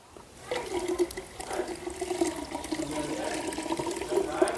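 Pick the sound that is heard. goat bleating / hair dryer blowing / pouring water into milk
pouring water into milk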